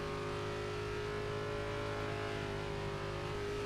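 A race car engine drones in a racing video game, a steady, sustained, buzzing tone at high revs that stays level throughout the short stretch with no voices.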